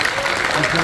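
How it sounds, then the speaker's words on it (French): Audience applause at the Hedg' Conv 2024 convention, a dense, steady wash of clapping from a crowd filling the whole short moment without a break. "un dernier tonnerre d'applaudissements pour Sam qui m'aide énormément"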